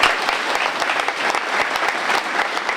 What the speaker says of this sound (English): Please join me in a round of applause to recognize the efforts of these community-minded individuals.